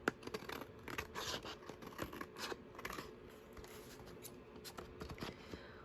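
Paper being cut with scissors while making a tall pocket book, a run of close, crisp snips and rustling sheets in quick irregular bursts, fairly quiet with no talking.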